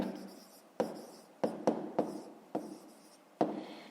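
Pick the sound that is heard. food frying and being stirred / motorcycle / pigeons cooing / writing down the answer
writing down the answer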